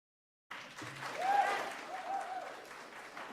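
After a moment of silence, an audience at a county school board meeting breaks into moderate clapping that carries on steadily, with a voice rising briefly over the noise.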